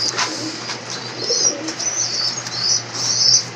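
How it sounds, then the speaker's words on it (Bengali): Belgian line pigeons coo low beneath a scatter of bright, high chirps from birds nearby, a steady chorus without any talking. "অরিজিনাল বেলজিয়াম লাইনের কবুতর।"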